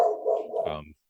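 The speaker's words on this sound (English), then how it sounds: "Sorry about the dog." A dog in a home during a podcast conversation gives a short burst of barking and whining vocalizations, close and fairly loud, then falls silent.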